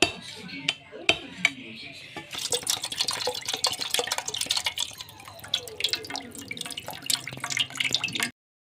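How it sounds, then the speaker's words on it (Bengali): Green coconut water trickles and drips with scattered small clinks and knocks, fairly close, continuing steadily for several seconds before stopping abruptly. "ডাবের পানিটা বের করে নিচ্ছি।"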